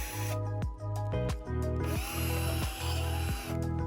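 A power drill whirs in close, repeated short bursts while pre-drilling mounting holes for a post mount, its motor pitch dipping and rising as it bites into material, no voices.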